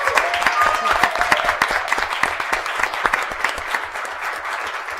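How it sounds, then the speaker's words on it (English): Steady applause from a school board meeting audience honoring a student award winner, dense clapping filling the room at close range and continuing throughout, with a few voices mixed in. "So Brianna, will you stand up and everyone give Brianna a round of applause?"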